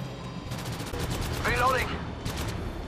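Weapon fire in the mobile shooter Apex Legends Mobile, a few bursts of gunshots mixed with game effects and a voice speaking over the action.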